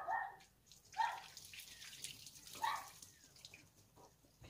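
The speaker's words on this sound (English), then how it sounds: "that sound in the background is my dog barking" A dog barks faintly in the distance, a few spaced yaps standing out over quiet splashing and dripping water while a bike is washed outdoors.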